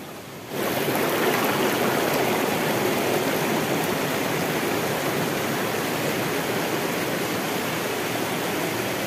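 River water rushing near the Curug Sawer waterfall, a steady, loud broadband roar that starts abruptly and holds evenly throughout, close and with no voices.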